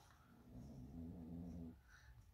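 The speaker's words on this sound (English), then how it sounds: "my dog is snoring under the table" A dog snores under a table indoors, a low rumbling, steady snore close by that swells for about a second and then stops.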